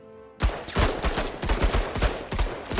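A burst of rapid repeated gunshots in the strategy game Menace erupts after a brief quiet start, roughly a dozen punchy close reports in quick rhythm, no voices.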